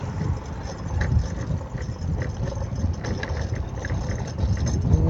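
Steady wind rumbles and buffets the microphone outdoors on the Corniche seafront in Jeddah, a low continuous roar that swells slightly toward the end.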